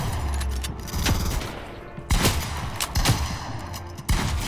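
Gunfire in Fortnite during a box fight, with sharp shots bursting at intervals over a dense, busy game soundscape, loud and close.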